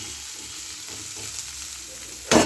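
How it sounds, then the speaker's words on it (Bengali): Chopped spring onion greens sizzle in oil in a pan for a catfish curry, a constant close hiss with faint stirring touches, ending in a sudden louder burst. "আমার পেঁয়াজ পাতাটা ভাজা হয়ে গেছে"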